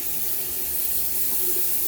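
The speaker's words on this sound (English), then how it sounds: "Let me rinse this off real quick." Tap water runs steadily from a faucet into a sink while shaving soap is rinsed off, a constant close hiss of flowing water with no talking.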